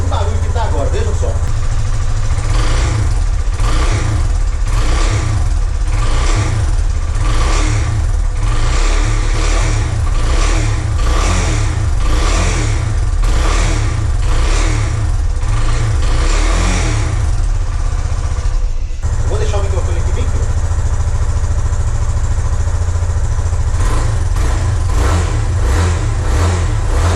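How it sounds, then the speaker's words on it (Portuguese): A Yamaha Fazer 250 motorcycle engine with a strange mechanical noise runs close and loud, revving in repeated surges and falling back to idle, with a short dip near the end and talk over parts of it. "o trecho que a gente liga essa motocicleta e o barulho que tava e o barulho que tá agora"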